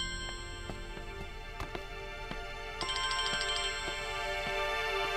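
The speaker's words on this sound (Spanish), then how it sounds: "El teléfono está sonando." A mobile phone plays a melodic electronic ringtone with repeating pulsed tones, steady and fairly faint indoors, with no speech.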